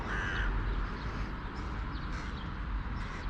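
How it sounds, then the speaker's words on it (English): Crows cawing as they chase a seagull around a backyard feeding station, the calls rising over steady broadband outdoor noise. "that crow's chasing him."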